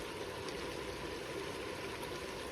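Water pours steadily into a pan of saag lamb (saag gosht) on the stove, a soft, even, continuous stream heard faintly and alone.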